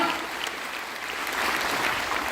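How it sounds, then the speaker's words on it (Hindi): Audience at a business seminar applauding a guest, a short burst of dense clapping from a crowd, steady and moderately loud with no speech. "जोरदार ताली बजा दीजिए"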